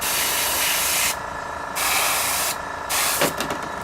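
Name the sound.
airbrush air compressor running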